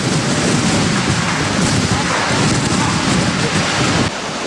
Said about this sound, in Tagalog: sabay na ang malakas na hangin at ulan